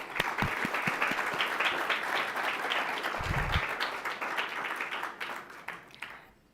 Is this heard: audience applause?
yes